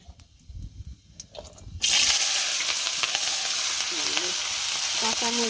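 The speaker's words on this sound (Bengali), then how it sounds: "এই যে তেল দিয়ে দিলাম, পাঁচফোড়ন দিয়ে দিলাম" Panch phoron seeds dropped into hot oil for a vegetarian dish burst into a loud, steady sizzle after a short quiet stretch of low clatter.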